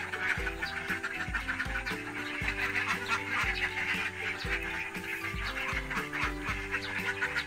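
Laying ducks quack in their pen, a busy overlapping chorus of many birds calling close by in steady rhythm throughout.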